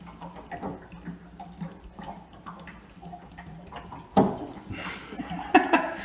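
Water drains from a trailer's broken hot water heater, trickling and splashing irregularly with louder gushes and clunks toward the end, close by, with faint background movement.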